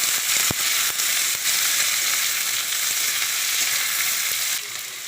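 Cumin seeds, bay leaf and chopped onion fry in hot goat fat for a jackfruit curry, a loud continuous close-up sizzle broken by a few stirring clicks and easing slightly at the very end.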